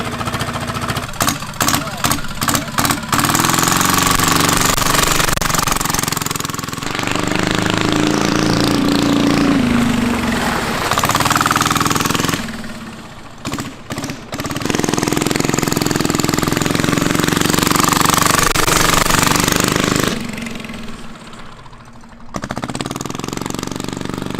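A small engine runs loud and close next to a giant Chinese diesel V-twin meant for a go-kart. It opens with rapid sputtering pulses, then drones steadily, briefly dropping out twice before resuming.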